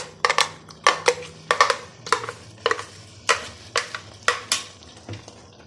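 A spoon stirs ground chickpea paste into a chicken-stock kali mirch chana curry in a pot, giving a series of close, irregular scraping clinks against the metal at a steady working rhythm, with a faint low hum beneath.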